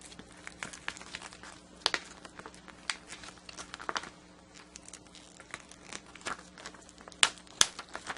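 TexTack adhesive foil heat transfer vinyl is peeled away from its backing with a series of light crinkles and sharp ticking crackles, faint and close.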